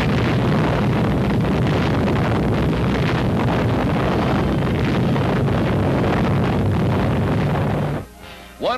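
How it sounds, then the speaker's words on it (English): Atomic bomb blast captured on archival film, a sustained loud broadband roar and rumble lasting about eight seconds before dropping away abruptly. "let's view the blast as filmed by another camera"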